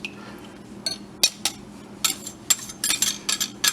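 A metal whisk clinks against a bowl while mixing oil with sugar and buttermilk for red velvet cream cheese brownie batter, giving a series of short, sharp, irregular taps that quicken toward the end, close and fairly quiet.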